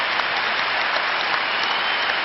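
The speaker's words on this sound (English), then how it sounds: "The game stops and the whole crowd and the players applaud Stiliyan Petrov in 90 minutes." A stadium crowd and players at Celtic Park applaud during a charity legends football match, producing a dense, steady wall of clapping that stays loud and even throughout, with no talk above it.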